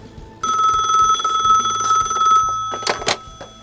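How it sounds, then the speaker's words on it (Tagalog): A telephone rings with a steady electronic bell tone that starts abruptly and holds, close and loud, ending with a few sharper clicking bursts as it is picked up. "Inak man lasong batan ti telepono."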